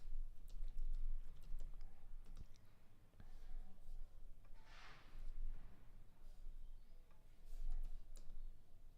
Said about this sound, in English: Let me just type in Koladev.